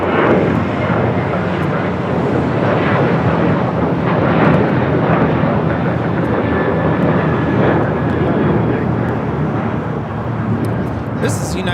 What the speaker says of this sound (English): 1395 taking off to Austin on a 737-800